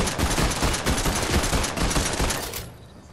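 Rapid automatic gunfire in the Fortnite video game: a loud, dense burst of shots rattling close by for over two seconds, then cutting off abruptly into near silence.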